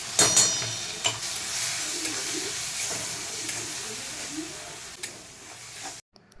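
Green chili paste with salt and turmeric frying in a pan gives off a steady, close hiss and sizzle, broken by a few sharp clinks of stirring, with no talking.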